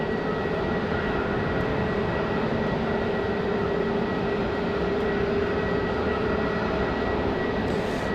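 A Southwest Airlines jet departs Raleigh-Durham International Airport in rain, its engines giving a steady, loud, continuous roar with a faint hum running through it, and no voices.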